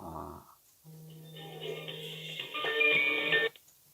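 A telephone rings during a Korean call-in current-affairs show, a steady electronic ring tone over a few seconds with layered tones, fairly clear and alone after a short burst of talk.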